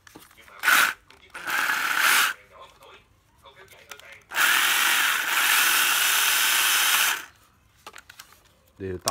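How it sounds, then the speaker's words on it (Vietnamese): A used Makita 9.6V cordless drill runs in two bursts, a short whir followed by a longer, steady, high-pitched spin lasting about three seconds, close to the microphone, with brief clicks and handling noise between runs. "nó khoan Makita 9V6 nhá."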